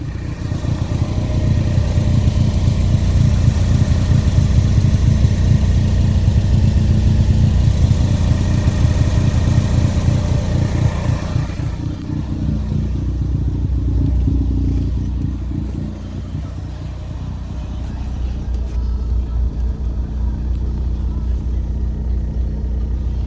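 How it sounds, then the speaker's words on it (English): A 2016 Ford Focus ST fitted with an exhaust resonator runs steadily close by, its loud low engine drone holding throughout and easing slightly partway, with no talking. "I'll show you the exhaust resonator that I got on it."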